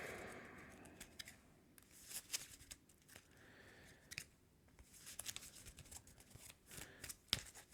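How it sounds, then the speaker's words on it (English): Game cards from the board game Earthborne Rangers are shuffled close by, with quiet riffling bursts and sharp flicks coming at an irregular pace over near silence. "shuffle this up"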